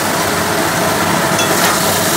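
Mutton curry with potato and papaya is stir-fried in a pan, giving a loud, dense, steady sizzling hiss with no pauses and no voices.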